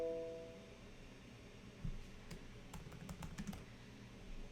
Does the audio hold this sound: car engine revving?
no